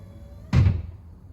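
AMP powered running board step on a body-lifted vehicle moving, heard as a single short, solid thud with a brief whir, close by and alone.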